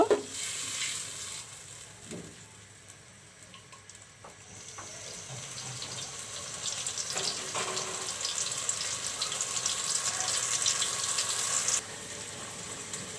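Spices sautéing in a pan for a mirga fish curry, with a soft sizzle and occasional stirring scrapes that grow louder and denser midway through, then drop back near the end.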